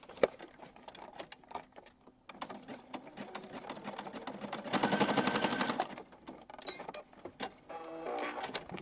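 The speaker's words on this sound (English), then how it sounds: "All right, let's stitch across this." A sewing machine stitches across junk journal pages in bursts of rapid mechanical chatter, close and clear, with short pauses and a louder sustained run midway.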